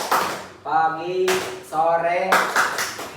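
Hand claps in a classroom focus clap game, struck in rhythmic bursts that alternate with a teacher's chanted calls, with voices in between.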